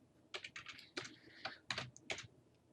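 Several quick bursts of clicks come from a computer keyboard during coding, with the keys struck in short, uneven clusters close by in a quiet room.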